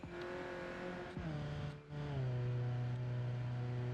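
A police car engine in BeamNG runs with a steady, loud droning hum that holds throughout, shifting pitch once or twice as it strains, with no talking over it.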